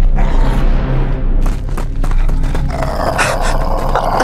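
A large black dog growls as a horror story sound effect, a continuous low rumbling snarl with a deep boom underneath, loud and close throughout.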